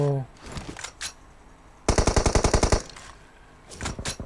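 Rapid automatic gunfire in PUBG Mobile, a loud burst of about a dozen shots in steady rhythm, with a few more scattered shots before and after and faint talk earlier on.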